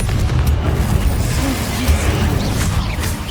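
Confringo fire spell blasts from Hogwarts Legacy, a dense run of booming explosive bursts and rumbling mechanical effects, loud and continuous without pause.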